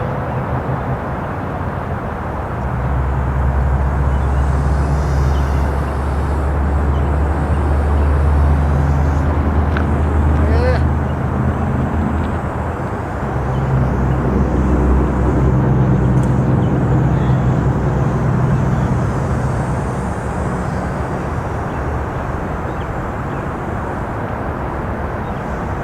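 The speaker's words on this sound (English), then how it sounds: "Pretty nice little drone, guys." A DJI FPV drone flies in freestyle passes, a loud, continuous motor roar with a strong low-pitched drone that swells and eases as it passes near, with no talk.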